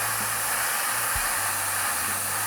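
An airbrush sprays Game Air Hexed Lichen paint onto a Drukhari Raider miniature, giving a continuous, even hiss close by with a faint low hum from the compressor underneath.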